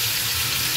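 Onion, ginger, garlic and green chili paste sizzles steadily in hot oil in a kadai, a continuous close crackling hiss with no talk over it.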